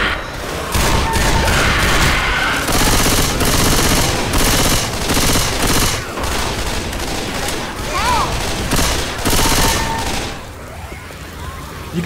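Dense gunfire in Left 4 Dead 2, loud rapid bursts of automatic weapons and heavier shots packed together for seconds on end, with shouting voices mixed in between the volleys.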